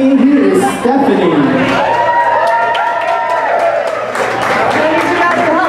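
Audience at a Broadway Golden Era singers' show cheering and clapping for a singer, a steady wash of crowd noise with voices and whoops running through it.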